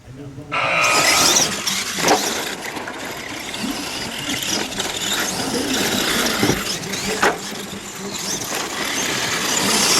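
Two Chevy RC monster trucks start a race with a loud, continuous electric whine and squeal that rises and falls as they pass close by, while a commentator talks over it.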